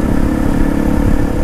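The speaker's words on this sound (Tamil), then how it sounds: "நல்லா த்ராட்டில் கொடுத்தா மட்டும்தான் அந்த சவுண்டு." A modified motorcycle engine revs hard on the throttle, giving a loud, close, continuous rumbling roar that holds steady through the short stretch.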